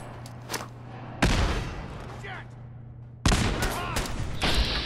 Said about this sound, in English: Let's see if I can wing a couple grenades in there.